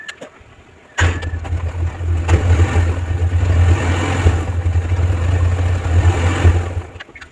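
A motorbike engine started up and kept running to warm the chain before cleaning, a loud steady idle rumble with small rev swells that begins abruptly and cuts off near the end.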